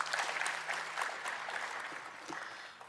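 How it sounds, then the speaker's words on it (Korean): Applause in a provincial council assembly hall welcoming visiting guests, moderately faint and fairly even, tapering slightly toward the end. "박수로 환영해 주시기 바랍니다"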